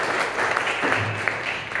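An audience claps at a stand-up comedy performance, producing a brief, steady burst of applause close by with no voice over it.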